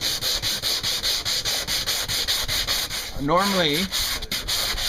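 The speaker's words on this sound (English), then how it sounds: "Now I've over sanded the main repair area." Hand sanding on a beat-up old Albacore dinghy's impact damage repair, with steady rhythmic back-and-forth rubbing strokes close up; a voice briefly speaks over the scraping near the end.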